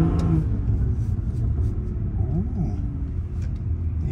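A car engine rumbles steadily nearby, with a low throaty drone and a brief rising rev in the middle.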